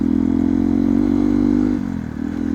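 A Hero XPulse motorcycle rides over a rough road, its engine droning steadily and loudly up close with a slight dip in pitch and level partway through, no voices heard.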